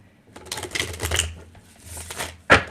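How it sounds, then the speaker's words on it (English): A deck of tarot cards is shuffled by hand in a few short bursts of riffling clicks with brief pauses between them, ending with a sharp snap as the cards settle. "Let's go ahead and just get these shuffled."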